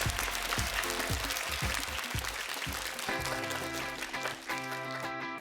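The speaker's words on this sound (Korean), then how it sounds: "다시 한번 우리 채영 학생에게 축하의 박수 부탁드리겠습니다" A studio audience claps to congratulate student Chaeyoung on a trivia show, the applause running under rhythmic thumping music with beats, then giving way to bright musical tones near the end.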